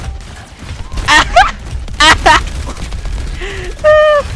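Gunfire in the video game Overwatch: several short, loud bursts of shots with sharp impact sounds and game effects, heard alongside excited talk.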